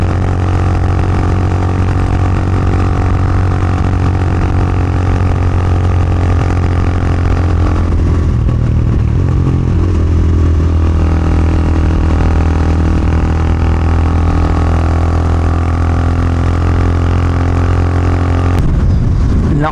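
A Motorstar Explorer 250GPR motorcycle climbs uphill under load, its engine droning loudly and steadily with a strong low hum, the pitch shifting briefly midway and again near the end.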